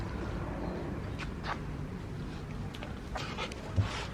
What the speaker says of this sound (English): Meet the new doggy, guys.